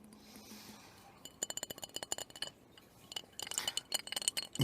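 A glass beer bottle clinks again and again in irregular quick taps, bright and close, its ring now hollower as if emptier, with no voice over it.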